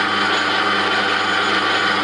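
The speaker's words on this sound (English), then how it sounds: "we'll move the tool onto the inside and remove the burr on the inside like that" A deburring tool scrapes the burr from the inside edge of a PVC pipe, giving a steady, close, dry scraping hiss that runs unbroken for about two seconds.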